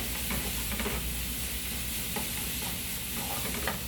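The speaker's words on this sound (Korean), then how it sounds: "일단 양파를 충분히 더 볶고 1분 볶다가 그 다음에 조개 들어갑니다." Onions stir-frying in a pan for tomato seafood spaghetti, a dense, continuous sizzle with light scraping of stirring throughout, close and fairly loud.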